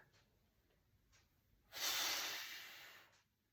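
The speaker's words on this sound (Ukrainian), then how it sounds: "І тут же зробили видих. Вдих. Видих. Вдих." Someone exercising gives one strong, close exhale lasting over a second, preceded by a few faint, short breaths in a quiet room.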